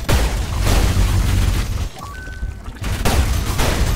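Dense explosions from the video game ULTRAKILL boom loudly in a continuous roaring barrage, breaking off briefly to near silence before the blasts rumble back in.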